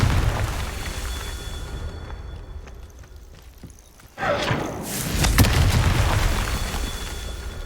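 In Hogwarts Legacy, a Confringo curse detonates suddenly after a quiet stretch, giving a sharp blast that rolls into a sustained, heavy rumble lasting a few seconds.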